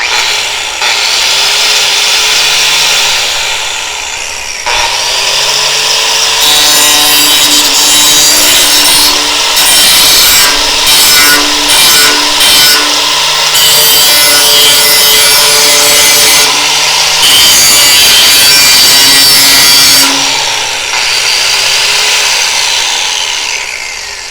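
A DongCheng 6.7-amp corded angle grinder with a paddle switch runs loud and close for a long stretch, its steady whine and rough grinding shifting in pitch and intensity as the load changes.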